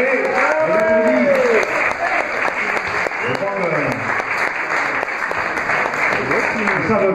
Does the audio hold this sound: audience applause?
yes